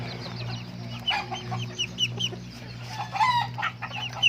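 Young roosters cluck and make short, bright calls nearby in a quiet setting, with a brief crowing-like burst partway through and a low steady hum beneath.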